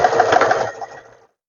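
A sewing machine stitches a pants pocket in a short, fast run of steady mechanical whirring that slows and stops after about a second.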